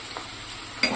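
Freshly pounded ginger garlic paste sizzles in a pan while a pudina rice dish is cooked, with brief scraping stirs and a sharper clatter near the end.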